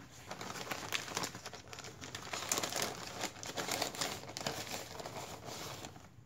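Pieces of fiberglass cloth and chopped mat, cut for a carbon fiber RC car body, are handled and crinkled in a steady stream of soft, close rustling with no talk.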